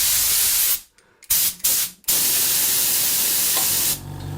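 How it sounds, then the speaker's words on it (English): A handheld air blower gun fed by a small cheap compressor gives a loud, steady blast of hissing air, cut off by a few short pauses, then resumes and continues strongly. "So this is a typical sort of little air blower."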